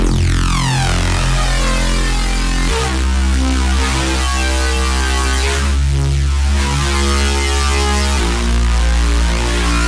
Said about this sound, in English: And the bass sound on its own sounds like this.